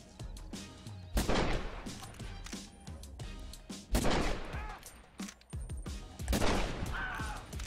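Video game gunfight with bursts of rapid gunfire and single shots, including a pistol, coming in several loud clusters with shorter cracks between them.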